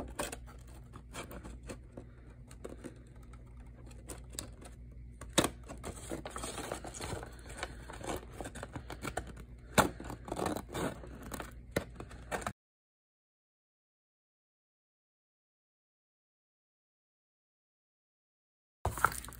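Scissors trim the excess from a handmade junk journal cover, giving a close series of small snips, scrapes and paper rustles for about twelve seconds before the sound drops out.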